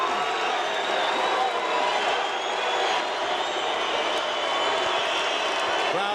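A large arena crowd at a heavyweight boxing match at Madison Square Garden roars and murmurs continuously, a dense, distant wash of voices with commentators talking over it.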